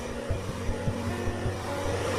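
An Iteracare hot-air blower runs close by with a steady whooshing hum, with faint low thumps underneath and no voices.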